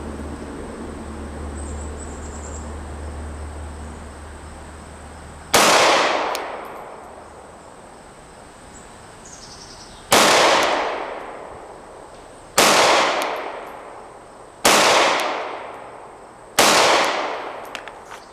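Five sharp shots from a Glock 17 Gen 5 pistol fired at a target, loud and close. Each crack leaves a ringing decay, and they fall at uneven intervals of two to four seconds after a stretch of quiet ambience.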